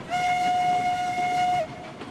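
A locomotive whistle in the train game Railroads Online sounds one long, loud, steady blast of about a second and a half, then cuts off abruptly and leaves a faint trailing tone.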